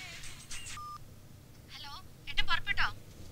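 Buttons pressed on a mobile phone give a quick series of dial-tone beeps, close and clear, with a voice speaking in between.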